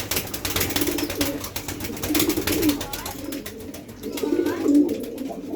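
Pigeons coo in repeated low, throaty bursts, close by, with soft rustling and movement between calls.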